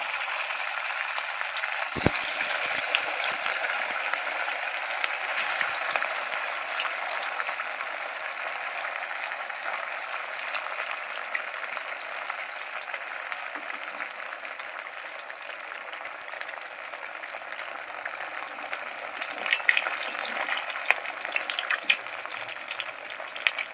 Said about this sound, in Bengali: এই তেলের মধ্যে আমি এগুলো একে একে ছেড়ে দেবো